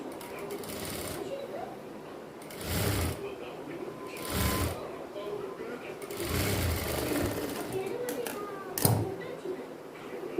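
A sewing machine joins a sleeve onto a girl's silk pattu pavadai in several short, separate bursts of loud mechanical whirring, with quieter handling and rustling between the runs.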